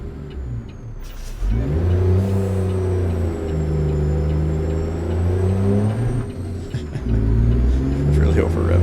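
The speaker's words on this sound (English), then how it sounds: "It's really over revving." A Ruda 389 Glider truck in American Truck Simulator over-revs, its engine climbing and holding in a loud, strained drone, easing off briefly, then revving hard again near the end.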